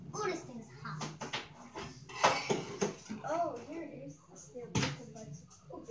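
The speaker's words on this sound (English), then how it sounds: "The real way how to wash dishes." Dishes being washed by hand, with pots, pans and cutlery clattering and clinking in irregular bursts close by, under steady conversation from people in the kitchen.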